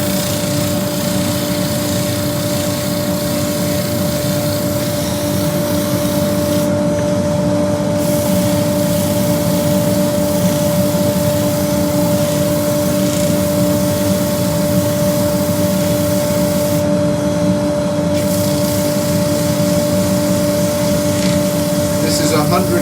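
A wood lathe spins a cherry root ball hollow form at speed, giving a steady loud motor hum and whine with a constant tone throughout.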